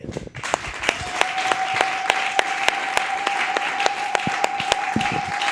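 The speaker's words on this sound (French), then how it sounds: "Ces acclamations, ces cris de joie, c'est une façon pour nous de te souhaiter bienvenue" A church congregation cheers and applauds at a worship service, with sharp claps falling into a regular beat under a sustained high cheering tone, loud and continuous throughout.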